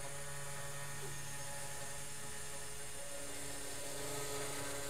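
A CNC machine runs a light pass at 1 millimeter depth, its cutter barely touching the material, giving a steady, continuous high mechanical whine with a constant hum beneath it, close and unbroken.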